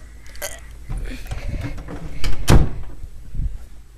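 A door is pushed shut indoors with scraping, knocking movement and one sharp thud midway, followed by smaller bumps, heard close with no talking.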